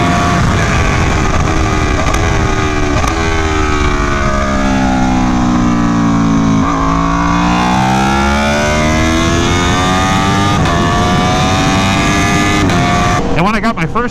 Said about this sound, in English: And then of course the blipper.